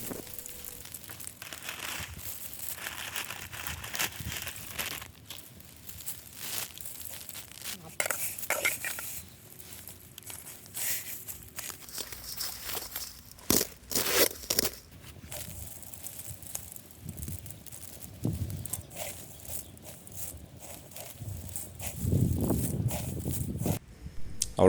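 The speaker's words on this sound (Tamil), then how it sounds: "ஃபஸ்ட்டு நம்ம சேமியாவை வறுக்க போகிறோம்." Vermicelli roasts in a pan for biryani, giving intermittent dry crackling, rustling and scraping that rises and falls over about twenty-five seconds at a close, moderate level.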